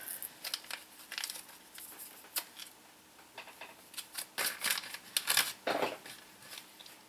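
A small packet of dielectric grease is ripped open close by, making a series of quiet, sharp crinkling tears and rustles in irregular bursts that grow busier toward the end.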